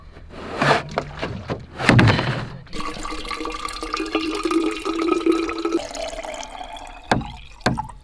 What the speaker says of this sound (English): The first thing that I do in the morning is fill up my water bottle.